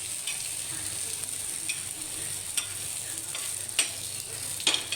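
Fish pieces frying in a little oil for Kolhapuri fish fry, a steady soft sizzle with occasional sharper crackles and pops, fairly quiet and close, with no talking.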